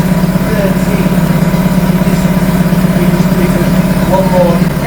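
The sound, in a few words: AC Cobra replica engine idling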